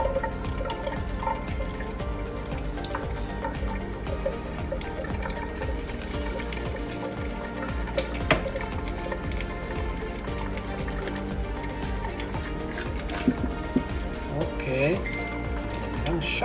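Tap water runs steadily while mackerel is cleaned for homemade daing, a continuous splashing stream under a voice speaking throughout.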